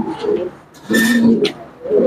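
Pigeons at a busy pigeon market in Dhaka give low, throaty coos in two or three close swells with short gaps between them, heard near and clear, with faint chirps behind.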